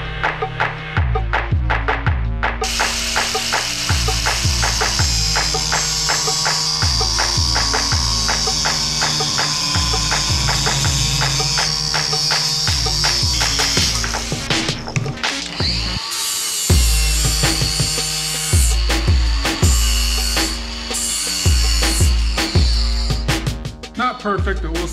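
A cutoff wheel slices through a metal part in a Montana garage during 1955 Chevy work, a loud sustained high grinding whine running about ten seconds, breaking off briefly, then resuming over a steady rhythmic thumping beat.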